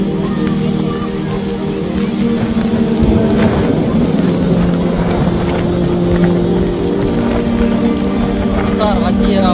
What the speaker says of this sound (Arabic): أمطار غزيرة وهواء شديد ما شاء الله